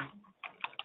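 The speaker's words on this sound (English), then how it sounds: "So open the Word file and let's type the format first" A computer keyboard being typed on in a Word document: three or four crisp keystrokes spaced out over under a second, close and fairly quiet, with no voices.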